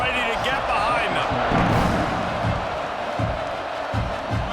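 Stadium crowd in a college football video game roaring and cheering before a kickoff, a dense sustained wash of noise with a play-by-play commentator talking over it.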